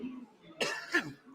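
A man with a seasonal cough coughs twice in quick succession, close and fairly loud, during a live Titans vs Seahawks watch party, with quiet room sound before and after.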